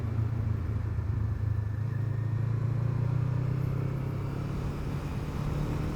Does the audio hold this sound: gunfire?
no